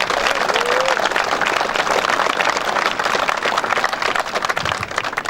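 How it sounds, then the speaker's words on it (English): A crowd at a junior hurling final in North Cork applauds the sponsors, with sustained, dense clapping throughout and a brief voice early on. "so a round of applause for all the sponsors"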